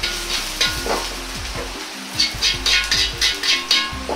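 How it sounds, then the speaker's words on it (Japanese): Ginger crackles and sizzles in hot oil in a pan, with quick rhythmic stirring strokes scraping the surface close up. "生姜を香りが出るように炒めていきます。"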